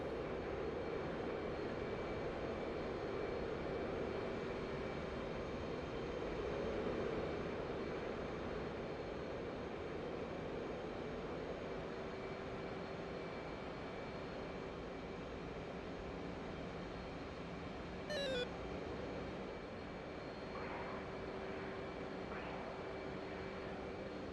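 An F/A-18 Hornet jet engine drones steadily through a DCS video game dogfight, a faint continuous roar with a brief rising electronic tone partway through.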